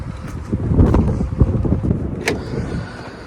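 A 2016 Opel Corsa E on a test drive gives off a low rumble of engine and road noise mixed with gusty wind buffeting, plus a few brief knocks and one short higher squeak.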